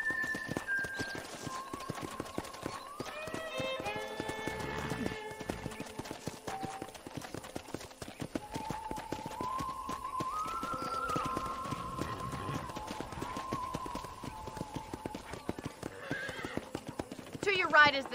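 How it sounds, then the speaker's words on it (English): A horse in the Red Dead Redemption video game trots with steady clip-clop hoofbeats and gives several whinnies and neighs, all over a continuous bed of game music and ambience. "let's see if you can still ride a horse"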